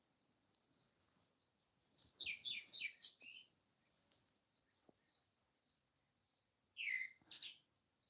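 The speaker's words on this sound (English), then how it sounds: "There's a little bird singing a beautiful song." A small bird sings two short bursts of bright, high warbling notes a few seconds apart against a quiet background with faint insect chirping.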